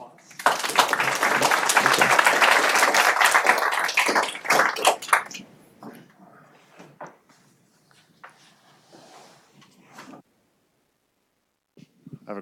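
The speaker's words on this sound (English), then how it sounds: "Okay, round of applause." Meetup audience at a Kaggle cell nucleus detection talk claps together, a dense, fairly loud round of applause for about five seconds that thins into scattered claps and trailing room noises.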